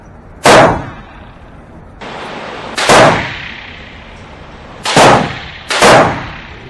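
Four sharp, loud Walther P22 .22LR handgun shots at an indoor range, cracking in an uneven rhythm with brief ringing decays and quiet room noise between them.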